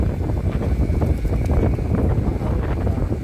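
Strong wind roars and buffets the microphone on a mountain, a loud continuous rumble with no voices.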